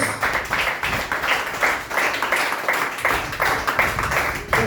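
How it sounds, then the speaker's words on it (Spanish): A church congregation claps together in a steady rhythmic beat, many hands sounding close and lively with no talk over it. "déle aplausos al Señor"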